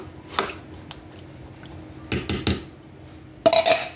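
Spoon scraping and clinking against a cooking pot while stirring rice in water for Hoppin' John, a few short bursts of knocks and scrapes separated by quiet pauses, close by with no talking.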